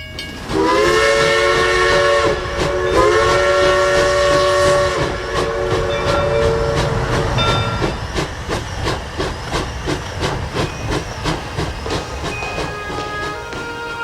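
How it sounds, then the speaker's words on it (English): A loud, sustained steam whistle blows twice with harmonic tones over hissing steam, then fades into a rhythmic clatter of wheels on rails. "By the platform of pillars where trains whistle by"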